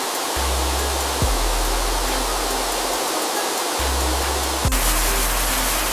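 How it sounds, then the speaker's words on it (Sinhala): A dark chocolate waterfall gives a steady, full rushing roar, with a deep low hum that drops out and returns twice. "මචං මේ තියෙන්නේ ඩාර්ක් චොක්ලට් දිය ඇල්ලක්."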